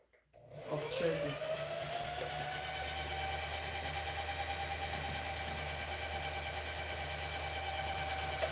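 A sewing machine starts up with a brief rising whine, then settles into a steady, continuous hum and whir at close range.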